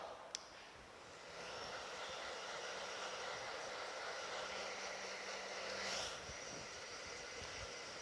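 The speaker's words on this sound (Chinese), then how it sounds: "现在呢，我们将头发吹干，看它吹干之后的干发效果。" A hair dryer blows steadily while blow-drying freshly set long centre-parted bangs, a continuous close rushing hiss that holds for the whole stretch with no talk.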